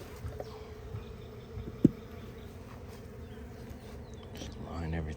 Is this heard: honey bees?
yes